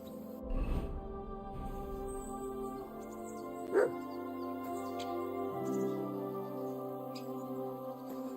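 In the video game Kingdom Come: Deliverance II, a dog lets out a couple of sharp barks, a louder one early and another a few seconds later, over a soft background of game ambience and music.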